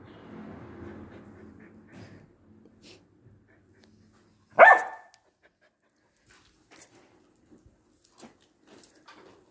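A dog makes one short, loud bark close by after a stretch of faint panting, followed by scattered quiet clicks and rustles in an otherwise hushed room.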